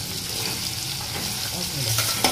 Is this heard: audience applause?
no